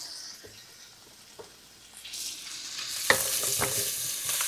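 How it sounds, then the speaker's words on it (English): Onions added to a hot pan for Philly cheese steak sliders, with a soft sizzle swelling from about two seconds and a few stirring scrapes and clinks near the end, fairly quiet and steady. "I'm going to put our onions in here on one side"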